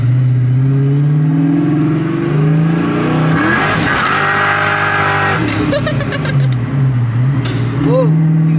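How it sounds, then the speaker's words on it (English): A Ford Mustang Foxbody with a hydraulic clutch setup revs hard under acceleration, its engine note climbing steadily, then dropping as it shifts into second gear before pulling up again. Loud, from inside the car. "we'll try to hit second gear a little quicker this time"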